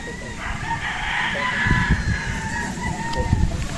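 Gilmore gamefowl roosters at a game farm crow loudly and repeatedly, with scattered clucking and farmyard background throughout.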